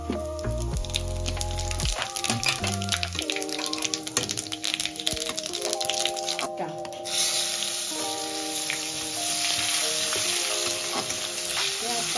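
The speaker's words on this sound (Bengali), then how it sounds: "ফোড়নটা দিয়ে দিলাম তেজপাতা আর গোটা জিরে" Bay leaf and whole cumin seeds dropped into hot oil in a pan, crackling and sizzling steadily, with a faint clatter early on and the fizz growing brighter and more even in the later half, no talking.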